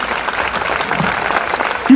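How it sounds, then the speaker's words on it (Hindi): Audience applause at a Hindi comedy poetry stage show, a dense steady clapping wash from a sizable crowd filling the whole stretch, with a slight swell at the end. "एक बार आप तालियां समझिए"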